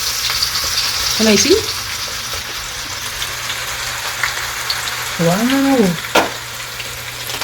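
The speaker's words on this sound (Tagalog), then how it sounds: "Magpiprito na tayo ng sweet potato." Sweet potato frying in oil gives a steady crackling sizzle throughout, with a couple of short exclamations and brief tonal sounds over it.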